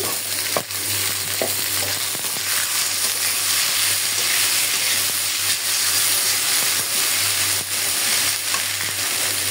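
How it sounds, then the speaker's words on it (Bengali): Steady, dense sizzling of okra frying in a hot wok, with occasional stirring clicks, close and continuous without talk. "মাছ বোনাটা নামানোর পরে আমি এই কড়াইতে কিন্তু ভেন্ডি ভাজিটা করে নিচ্ছি।"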